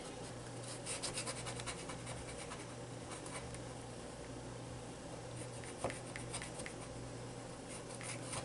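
Material is rubbed onto a glued index card during mixed-media art, giving a continuous close scratchy rubbing that runs steadily throughout with no talking.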